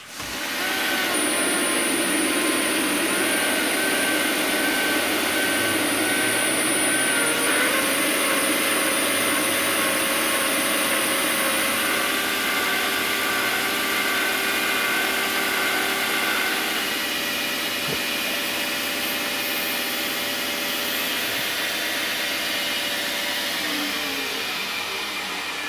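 An electric drill fitted with an attachment drives a lathe crank in a workshop. It makes a loud, continuous high whirring whine that holds for about 25 seconds, with its pitch shifting slightly partway through, and no one speaks.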